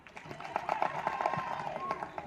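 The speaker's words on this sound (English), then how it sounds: "we must thank you with a thunderous clap." A crowd at an NRM meeting claps in a quick scattered patter that holds steady for a couple of seconds, with murmuring voices in the background.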